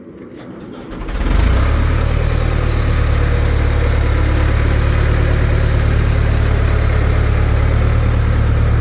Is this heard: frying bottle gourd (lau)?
no